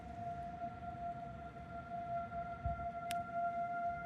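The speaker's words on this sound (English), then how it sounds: "this is the first monthly siren test of 2025 for Washington County" An outdoor tornado warning siren sounds during Washington County's first monthly test of 2025, holding a steady sustained tone throughout over a low rumble of background noise, with one brief sharp click near the end.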